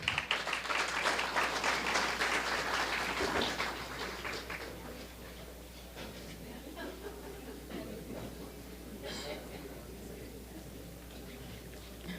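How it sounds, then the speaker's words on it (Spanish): Applause from an audience at a history congress closing ceremony, loudest at the start, then fading into scattered claps and quiet room murmur. "Un fuerte aplauso, por favor."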